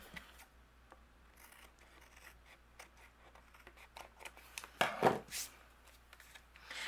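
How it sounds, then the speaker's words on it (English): Scissors snip off overhanging paper on a handmade greeting card, faint soft cuts and rustles in a quiet room, ending in a few louder, sharper snips. "I do have a little bit overhanging, so we can trim that off"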